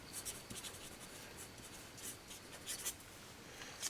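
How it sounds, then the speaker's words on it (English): A Stampin' Up chalk marker writes on a chalkboard tag, giving faint, soft scratchy strokes in short repeated bursts, quiet and close with no talking. "And I'm going to write,"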